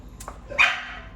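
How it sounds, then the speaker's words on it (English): A single sharp bark from a hungry dog in a home kitchen during cooking, preceded by a couple of faint yips over a low background hum. "Oh, Simon, don't bark."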